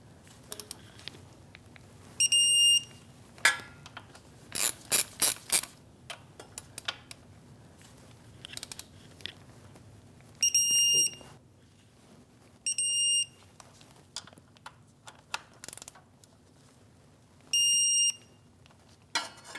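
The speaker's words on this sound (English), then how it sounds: "now I'm going to get my torque wrench" A digital torque wrench beeps in several short bursts as it tightens a lower engine mount bolt on a 2016-2025 Chevrolet Malibu 1.5L L4 to 74 foot-pounds, with faint ratchet clicks and workshop noise between the beeps.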